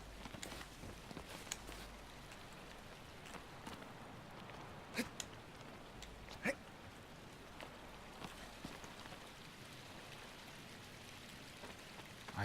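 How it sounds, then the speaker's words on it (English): Water patters steadily and softly in Shadow of the Colossus, like rain or a flowing stream, with a few sharper drip-like ticks standing out against the constant wash. "I hear water."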